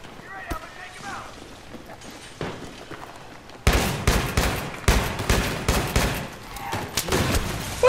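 Bursts of gunfire in the Battlefield 3 Gun Master mode on the Operation 925 map, with a quieter start and then loud, dense rapid shots from about the midpoint, mixed with game effects and occasional talk.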